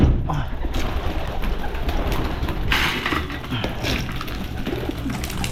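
Pigeons coo steadily among a flock of breeder birds in a loft at feeding time, soft repeated throaty calls layered over a busy rustling background with occasional wing flutters, continuous and close.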